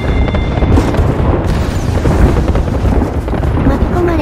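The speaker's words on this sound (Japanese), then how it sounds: "空爆のお返しだよ" Airstrike explosions in the battle royale game Apex Legends on the Kings Canyon map: a dense, continuous rumble of loud booms with no breaks throughout.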